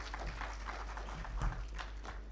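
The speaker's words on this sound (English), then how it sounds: "Let's give him a better applause." Audience applause in a conference hall, a steady wash of many hands clapping at moderate distance with no voices over it.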